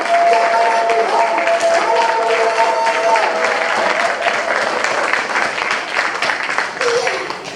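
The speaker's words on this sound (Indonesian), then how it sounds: "Tepuk, nyatakan ini persembahan kepada Tuhan" A church congregation claps hands in praise during a worship service, a loud, steady burst of applause with cheering voices that gradually tapers off.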